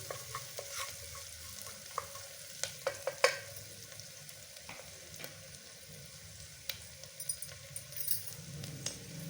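Onions and tomatoes frying in a pan while a spoon stirs them, a soft steady sizzle broken by scattered clinks and scrapes of metal, close and quiet with no voices.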